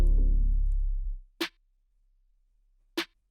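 Two dry, sharp snare drum hits, an unprocessed sample, spaced about a second and a half apart, following a fading low tone, with silence between them.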